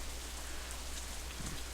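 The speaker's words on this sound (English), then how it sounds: "As we approach the girls' dormitory, it starts to rain again." Steady rain falling in the visual novel game Katawa Shoujo, a soft continuous hiss with a low hum underneath, even and unbroken with no talk.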